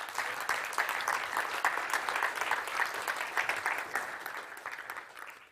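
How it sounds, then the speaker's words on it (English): A conference audience at a property summit applauds as four speakers make their way to the stage, steady moderate clapping from many hands with a slightly distant, roomy feel, continuing throughout. "Let's give them a round of applause as they do so."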